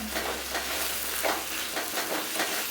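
Spicy mutton liver thokku with green chillies being stirred in a pan, a continuous close sizzle of oil with soft repeated scraping strokes of a spoon, no talking.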